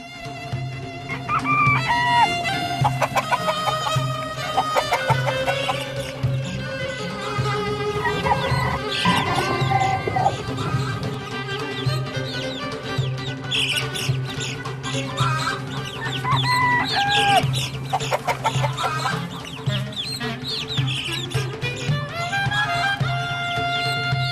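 A rooster clucks repeatedly over a dense, busy background of music or other sounds, with occasional higher crowing calls throughout.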